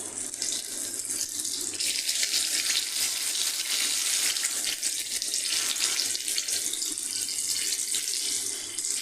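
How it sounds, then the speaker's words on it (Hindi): Chinese veg rolls fry in hot oil, giving a steady, bright, hissing sizzle that stays loud and even throughout with a few soft crackles and no talk. "फिर इसको पलटते पलटते हुए इसको फ्राई कर लेना है"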